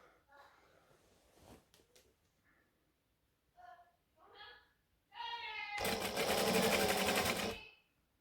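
A sewing machine stitches around the curve of a Christmas tree skirt, a loud, close whirring run of about two seconds near the end, after a stretch of quiet talk with short stops and starts.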